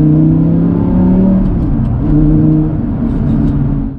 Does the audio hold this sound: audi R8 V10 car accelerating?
yes